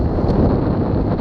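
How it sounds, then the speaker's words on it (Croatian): Strong storm headwind roaring across the microphone outdoors, a loud, continuous rumbling buffet with no breaks across the short stretch. "Olujni vjetar u ovom smjeru, a on jedva se kreće."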